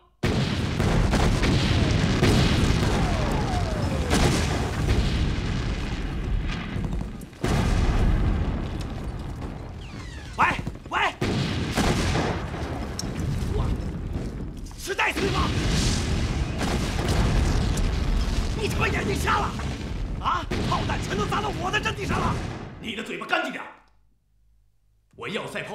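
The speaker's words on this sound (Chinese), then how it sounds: "各炮台注意，急速射击" Artillery batteries firing rapidly in a war film, repeated heavy booms and blasts rolling one after another, loud and close, with shouting voices among the barrage before it cuts off near the end.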